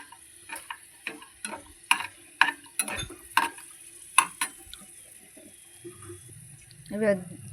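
Bread pieces lightly frying in a pan for double ka meetha: a faint sizzle under a run of sharp clinks and taps from a utensil against the pan, ending in a softer scraping stir.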